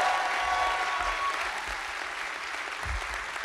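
A theater audience applauds a film director at an introduction, steady, full clapping from a crowd throughout, fairly close and even in loudness.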